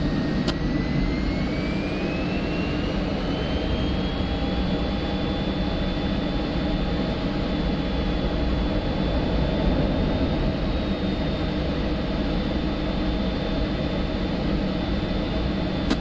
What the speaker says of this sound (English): I'm going to put the aircraft into as tight a turn as possible while maintaining airspeed.